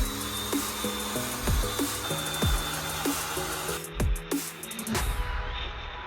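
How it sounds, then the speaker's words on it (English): A drill with reamer bits bores holes into a vehicle frame, a high whining drill sound broken by repeated short bursts and pauses as the bit cuts, close and fairly loud, with no speech. "I have 4 holes to drill on the frame."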